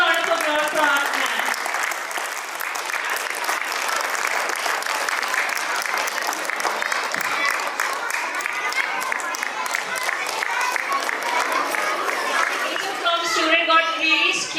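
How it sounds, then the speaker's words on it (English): An audience at a school annual day celebration claps for a teacher, a loud, sustained round of applause with crowd chatter and a voice rising over it toward the end. "Have a huge round of applause for our ma'am."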